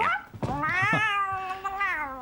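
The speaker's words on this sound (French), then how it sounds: "Oh, pauvre petit minou fatigué, on te dérange pendant ta sieste" A tired cat woken from a nap on a desk gives a long, drawn-out meow that rises and then holds steady. It sounds close and clear, with a short chirp before it and no talking.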